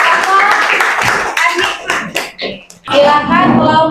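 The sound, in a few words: audience clapping together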